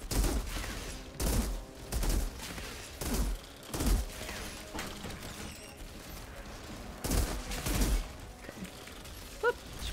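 Gunfire from a hunter enemy in the shooter video game Outriders: loud bursts of shots in irregular clusters roughly every second or two, separated by quieter rumbling combat ambience.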